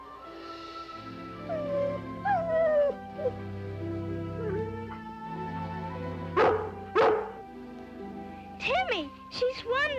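A cartoon dog barks and whimpers while doing a trick, giving several short yips between stretches of talking and background music.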